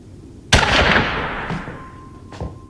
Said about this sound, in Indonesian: mereka dikagetkan oleh bunyi tembakan